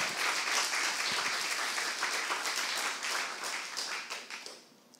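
Church congregation at a Saturday worship service claps together, a dense, even round of applause that holds steady before fading out toward the end.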